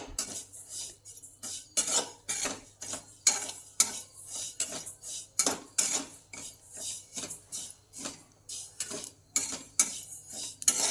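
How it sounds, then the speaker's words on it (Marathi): Sesame seeds dry-roasting in a pan for a homemade mixed fennel mouth freshener, stirred with steady, rhythmic scraping strokes about twice a second, close and clear with no talking. "याच्यामध्ये तीळ पण भाजून घेऊया।"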